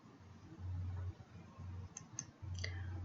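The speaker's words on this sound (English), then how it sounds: "I'm taking sharp scissors, and you need to get very close to that sew down line and trim away the" Sharp scissors trim applique fabric close to the stitched sew-down line, giving a few faint, crisp snips late in the clip over a steady low hum.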